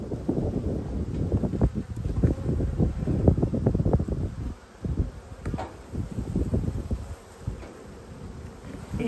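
Honey bees buzz in a steady, close drone during an Australian beehive inspection, with wind rumbling across the microphone in uneven gusts and no one speaking.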